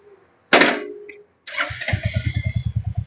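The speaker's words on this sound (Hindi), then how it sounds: "तो पहले मैं इस गाड़ी के एग्जॉस्ट नोट सुनाना चाहता हूँ।" Royal Enfield Hunter 350 motorcycle engine cranking briefly, cutting out, then starting and settling into a close, loud, steady thumping single-cylinder idle exhaust note.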